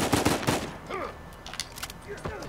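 Rifle gunfire in an Uncharted multiplayer match: a quick burst of sharp shots up front, then scattered single cracks amid game effects, close and loud.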